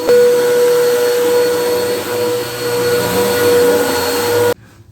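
Vacuum cleaner with poor suction running and pulling up debris, a loud, steady whining drone with a constant tonal hum, close by, that cuts off abruptly near the end.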